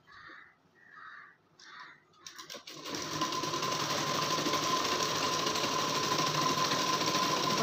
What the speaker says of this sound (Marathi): बरोबर असं ठेवून घ्यायचं आणि वरच्या बाजूने स्टिच करायला घ्यायचं।